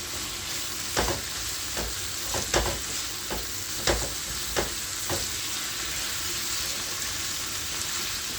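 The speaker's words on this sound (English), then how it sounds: "So I'm going to go ahead and add the saltfish to it." Saltfish frying in a pan with sautéed vegetables and seasoning, a steady close sizzle broken by several sharp stirring scrapes and clinks spaced a second or so apart, no voices.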